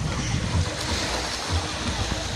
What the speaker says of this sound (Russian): Очень шумно, но это же пляж,